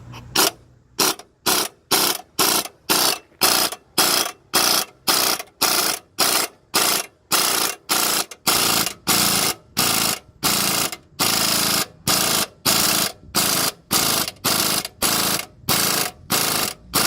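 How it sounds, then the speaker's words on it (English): A ball joint press tool is driving a ball joint into place, sounding as a steady run of loud, evenly spaced mechanical clicks, like a ratchet being worked, with short gaps between strokes and no talk. "let's see if I can load this up and video this while we push it in"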